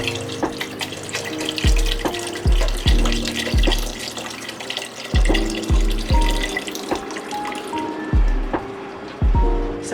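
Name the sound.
pouring vegetable broth into a pot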